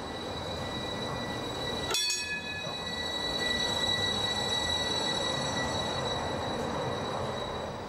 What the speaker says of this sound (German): Im Depot rollte er in die Halle.